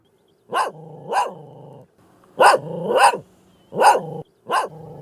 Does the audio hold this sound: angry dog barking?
yes